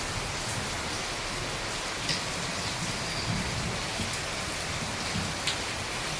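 Light drizzle falls steadily under a dark sky after heavier rain has eased, a soft continuous hiss of fine drops close by with no voices.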